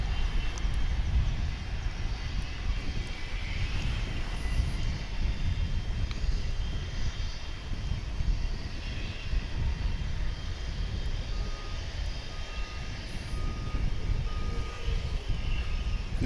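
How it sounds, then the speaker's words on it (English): A regional airliner landing at DFW airport, a steady broad engine roar with low rumble that holds loud and unbroken throughout, no voices over it. "Got another regional flight coming in"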